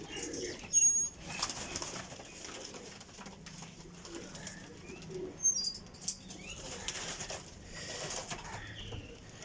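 High flyer pigeons at a breeder's loft give soft, steady cooing with a few brief bursts of wing flapping over a low outdoor hum, fairly distant and unhurried.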